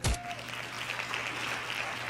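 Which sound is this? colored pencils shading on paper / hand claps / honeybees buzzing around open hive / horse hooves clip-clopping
hand claps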